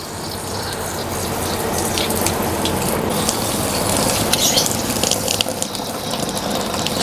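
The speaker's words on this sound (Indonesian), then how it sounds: "Langsung aja kita siram." Water spraying from a shower-type nozzle onto a rooftop seedbed, a steady, loud hissing spray that continues without a break and swells slightly toward the end.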